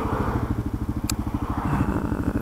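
A Kawasaki motorcycle engine in first gear, a close, rhythmic low putter of rapid firing pulses with a steady throb, plus one brief faint click partway through.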